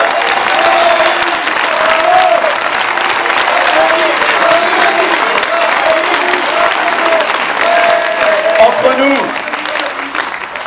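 A large crowd at a political party congress in Arras, France applauds loudly and continuously, a dense wash of clapping with voices mixed in, easing slightly at the end.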